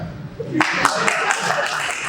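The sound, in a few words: audience clapping at a Hindi comedy poetry show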